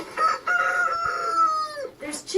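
Farmyard chickens with ducks and guinea fowl nearby, a rooster crowing in a long drawn-out call close to the microphone, followed by a couple of short squawks.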